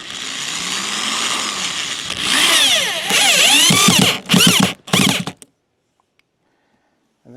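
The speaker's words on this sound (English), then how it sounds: "we're just going to pile a whole bunch of screws into it" A cordless drill drives screws into a wooden roof truss. The motor revs up and whines as each screw goes in, ending in several short, sharp bursts before stopping abruptly into near silence.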